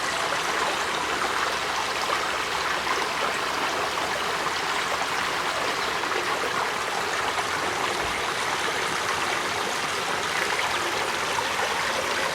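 A stream rushes and trickles steadily at the foot of a waterfall in Governor Dodge State Park, a constant broadband wash of flowing water heard alone.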